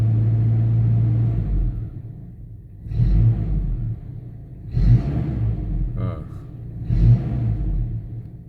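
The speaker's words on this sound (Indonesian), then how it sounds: "Ini saya gas nih." A 1999 Toyota Kijang LGX engine revved in short bursts at warm idle: three rising rumbles about two seconds apart, each swelling over the steady idle and falling back, with a person talking close by.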